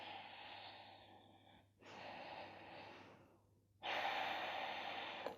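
Slow, audible Ujjayi breaths during a vinyasa yoga session, three long airy inhales and exhales in turn, close and soft, with the last breath noticeably louder.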